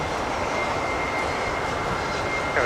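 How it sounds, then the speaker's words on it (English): A FedEx MD-11F cargo jet on short final to land on runway 12 right at Minneapolis–St. Paul Airport during a winter storm, its engines a loud, steady broadband roar that holds throughout. "our FedEx MD-11F is on short final for runway 12 right"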